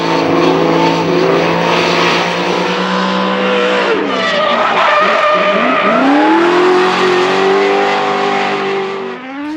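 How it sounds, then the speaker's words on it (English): Drift cars battling at a D1NZ drifting round in Christchurch, including a turbo Nissan S15 and an R34 Skyline against V8s, engines roaring loud and close with revving, shifting pitch and tire squeal throughout. "Kurt Whitaker powering away with a 10-0 advantage in the Autosure R34."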